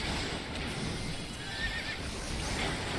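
A horse whinnies in Final Fantasy XIV against a dense, steady backdrop of game music and effects, with faint hoof clip-clops mixed in and no talking.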